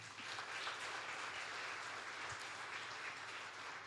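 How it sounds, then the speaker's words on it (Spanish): A congregation claps together at a church celebration service, dense continuous applause filling the room at steady loudness with no speech over it. "Un aplauso al Señor."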